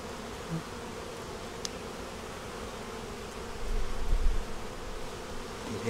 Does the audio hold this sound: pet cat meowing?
no